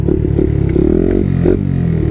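A small Honda Monkey motorcycle engine revs up close, its buzzing exhaust note and audible intake roar rising and falling through short throttle blips with no talk.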